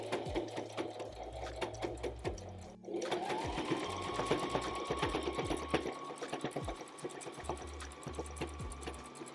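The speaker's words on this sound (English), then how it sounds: "we're gonna go ahead and sew this curve to this kind of straight side" A sewing machine stitches a curved hoodie piece to a straight side, its rapid mechanical rattling running steadily up close after a brief pause near the start, with a faint hum underneath.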